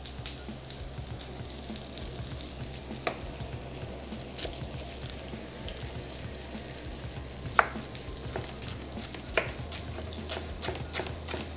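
Food sizzling steadily in a frying pan during preparation of sultana kebab, a continuous close crackle with scattered sharper pops and spits, no talking.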